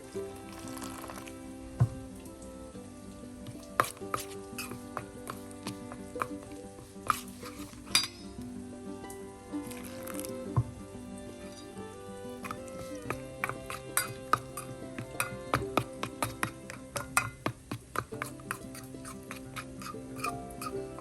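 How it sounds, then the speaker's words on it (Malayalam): Metal spoon clinking and scraping in a pan while chilli powder and pepper powder are mixed with hot water for a spicy threadfin bream (kilimeen) curry, with irregular close taps over steady background music. "ചൂടുവെള്ളം ഒഴിച്ച് നമുക്ക് നന്നായി മിക്സ് ചെയ്യാം."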